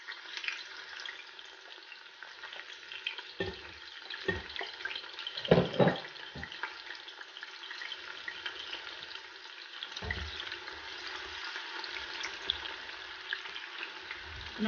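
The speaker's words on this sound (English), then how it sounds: "what we are going to do now is to fry the tomatoes" Onions and tomatoes frying in oil, a steady hissing sizzle across the whole stretch with occasional stirring knocks and scrapes, moderately close.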